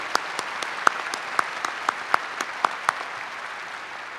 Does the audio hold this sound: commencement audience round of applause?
yes